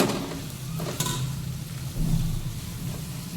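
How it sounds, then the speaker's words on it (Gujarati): Finely chopped spiny gourd tipped into a pan of frying garlic masala, giving a steady close sizzle with a few stirring scrapes and a brief swell of frying noise partway through. "હવે આ કંકોડા સમાર્યા ને મસ્ત ઝીણા ઝીણા એ એડ કરી દેવાના"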